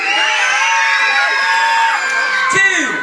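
Children scream loudly together at a Christmas magic show, a sustained, high-pitched roar of many voices that stays at full volume throughout, with whoops rising near the end.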